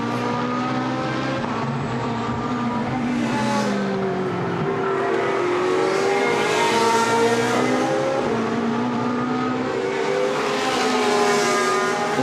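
GT race cars roar down the back straight at Misano circuit, their engines layered and rising and falling as several cars pass in a dense pack. The engine sound is loud and continuous with no pause.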